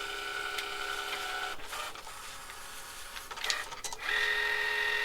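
Electronic craft cutting machine cutting paper, a steady mechanical whir with the carriage motor shifting pitch as it moves, brief clicks and pauses, then resuming with a higher whine, close and alone.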